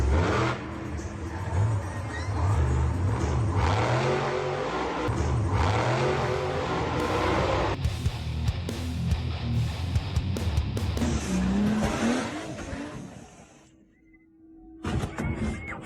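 An off-road truck's engine revs hard and loud almost throughout, with wheels churning and skidding, before a brief lull and a final burst of revving near the end.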